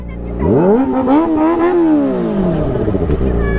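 A motorcycle engine revs up sharply, its pitch rising and holding before easing down, loud and close, with a voice heard briefly near the end.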